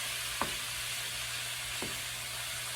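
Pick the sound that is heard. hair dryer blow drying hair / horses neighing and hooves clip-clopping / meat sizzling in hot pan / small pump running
meat sizzling in hot pan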